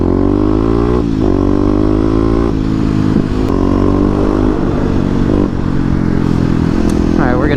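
A Kawasaki KLX250 dual-sport motorcycle rides through city streets, its single-cylinder engine loud and close, revving up through several gear changes with wind noise throughout.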